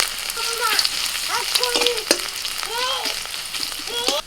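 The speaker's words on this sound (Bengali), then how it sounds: "অল্প একটু তেল আমি কড়াইতে রেখে দিয়েছি এবার ওর মধ্যেই দিয়ে দিচ্ছি আমি প্রথমেই রসুন কুচি আদা কুচি" Chopped garlic and ginger sizzle in a little oil in a wok, a loud steady frying crackle close by, broken by a few scraping stirs of a spatula against the pan.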